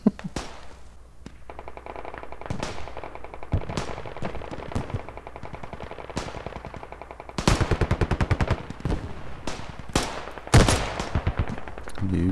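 Gunfire in the military shooter game Squad: bursts of automatic fire and single sharp shots rattle close and loud, with a long rapid burst midway and scattered distant reports.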